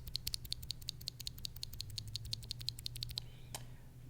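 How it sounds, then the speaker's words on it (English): An unlubed Kailh Polia keyboard switch pressed repeatedly on its own outside the board, a quick, even run of sharp, quiet clacks that stops with one last faint tap. "This is what they sound like outside of the board on their own."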